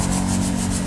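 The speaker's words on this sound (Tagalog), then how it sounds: "nililiha" Wood furniture being sanded by hand with sandpaper during refinishing, a steady close rubbing rasp that runs continuously without pause.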